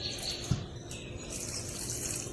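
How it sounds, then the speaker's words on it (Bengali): Water poured at the base of a newly planted garden plant to soak the soil, a steady soft trickle and splash running close by with no talking. "ভালো করে মাটিটাকে পুরো ভিজিয়ে জল দিয়ে দেবে"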